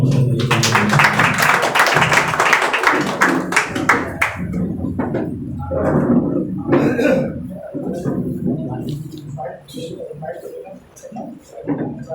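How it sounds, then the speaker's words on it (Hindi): An audience at an electrohomeopathy book launch in a hospital in Bareilly breaks into loud, dense clapping that fades after a few seconds into scattered claps and murmuring. "एक बार जोरदार तालियां हो जाए।"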